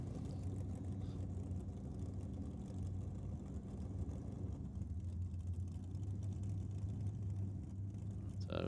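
Deep, steady engine rumble from a 426 Hemi Dodge Dart drag car at a Friday night drag racing event, continuous and loud from start to finish, with a brief sharper sound near the end.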